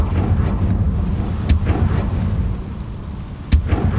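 Two sharp Confringo fire-blast explosions in the Hogwarts Legacy video game, spaced about two seconds apart, each a quick crack over a steady low rumble of ambient noise.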